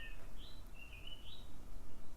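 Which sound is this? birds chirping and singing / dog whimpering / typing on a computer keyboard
birds chirping and singing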